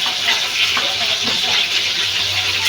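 Chicken frying in hot oil, a steady close hiss and crackle that continues for the whole stretch with no voices over it.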